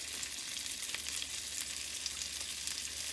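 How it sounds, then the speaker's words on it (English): Quiet, steady sizzling and crackling of cheese-crusted cod fillets frying in a pan, with no talking. "See that sizzle? Hear it?"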